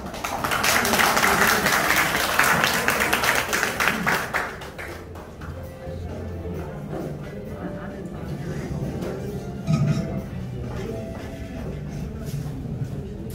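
Lively applause from a crowd fills the first four seconds, welcoming outgoing officers of the Gwangju Biennale Rotary Club, District 3710, at its officer installation ceremony, then it gives way to someone speaking into a microphone.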